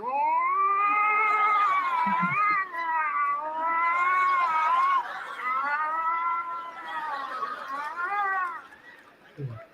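Two mating cats yowl and caterwaul in long, wavering, drawn-out cries, loud and close, with brief pauses between wails.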